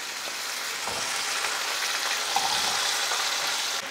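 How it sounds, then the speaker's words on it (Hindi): Potatoes fry over a medium flame in a pan with nigella seeds and asafoetida, a steady, dense close sizzle that holds at an even loudness throughout without any voices. "पहले हम 2 से 3 मिनट आलू को फ्राई कर लेंगे।"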